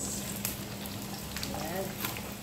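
Onions fry in a pan for chicken spaghetti with a steady, close sizzle and faint crackles throughout, with no talk.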